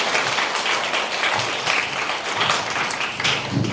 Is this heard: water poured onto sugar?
no